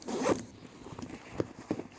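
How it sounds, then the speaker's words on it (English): A YKK zipper on a Zeppo Solo leather backpack is pulled in short quick runs, giving faint raspy zipping strokes with small ticks between, close up and quiet. "Look at this as well, YKK zippers."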